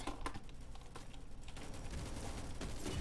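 Rapid automatic gunfire from a weapon in the Roblox war game Rolling Thunder rattles on continuously as dense, quick bursts, fairly loud with no talk over it.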